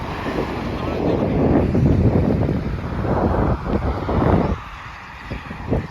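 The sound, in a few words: wind on a bridge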